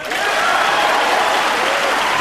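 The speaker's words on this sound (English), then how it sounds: "And Earl leading the applause." Audience at a 2002 World 9-Ball Championship final applauding a great pool shot, a loud, sustained burst of clapping close by that holds steady to the end.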